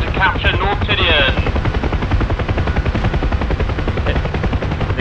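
Helicopter rotors thump in DCS during a capture of North Tinian, a loud continuous chopping drone mixed with bursts of gunfire, with people talking over it.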